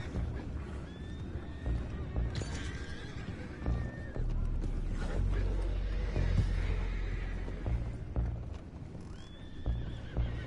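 Horses in Red Dead Redemption whinny loudly near the start and again at the end. Hooves clop and a steady rumble continue between the calls, with faint voices underneath.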